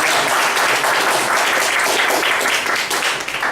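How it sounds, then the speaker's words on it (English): A meeting audience gives a big round of applause after an evaluation session, dense and loud clapping from close by, steady throughout and easing slightly at the end. "You a big round of applause."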